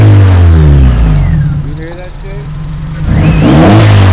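A car engine with a repaired alternator revs loudly nearby, climbing and falling with a whining supercharger-like tone; the revs dip briefly and then surge again.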